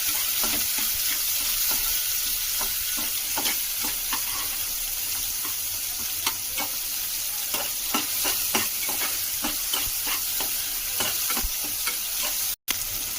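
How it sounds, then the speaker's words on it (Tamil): Chopped tomatoes sizzle steadily in a hot pan while a spoon stirs and scrapes them in irregular clicks, cooking down for a jackfruit seed kurma; continuous frying hiss with no voices. "தக்காளி நல்லா வதங்கிடுச்சு."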